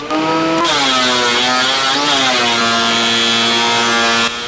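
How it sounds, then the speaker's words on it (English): Table saw trimming uneven edges off glued-up wooden boards for a mini workbench's legs, a loud steady motor whine with strong harmonics running throughout, its pitch dipping slightly as the blade bites into the wood. "took them back to the table saw to cut off all the uneven parts"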